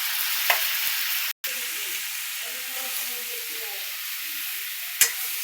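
Pumpkin pieces being stirred in a hot pan, with a soft sizzle and hiss throughout. A few sharp spoon clicks against the pan stand out, and brief quiet speech can be heard in the middle.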